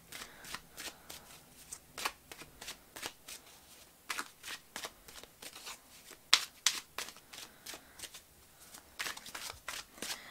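A deck of tarot cards is shuffled by hand in repeated quick riffles and soft slaps, a close, quiet rhythmic flutter with short gaps between passes.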